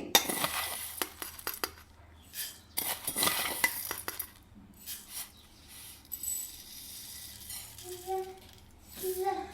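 A metal ladle scoops dry coriander seeds for measuring, with bright clinks and rattling scrapes in quick clusters early on, then quieter, sparser taps and a few faint tones.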